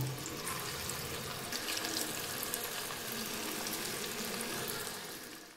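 Snacks fry in hot oil in a frying pan with a dense, steady, rushing hiss that stays fairly even throughout and fades slightly at the end, no voices present.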